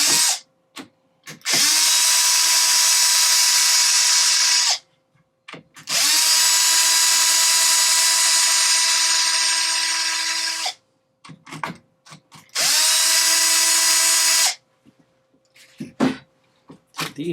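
A power drill spins out bolts from an RC car chassis in three sustained whirring bursts, each a few seconds long, with short clicks and handling noises in the gaps between.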